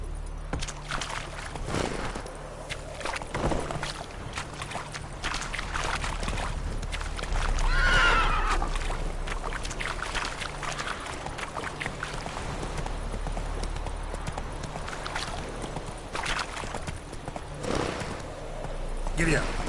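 A horse in The Witcher 3 trots with rhythmic clip-clop hoofbeats and gives a neigh partway through, while a person talks over the game sounds.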